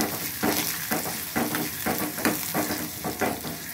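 Curry leaves sizzle and crackle in hot oil for a pepper rasam tempering, the frying loud and steady with rhythmic pulses of stirring every half second or so, and no voices.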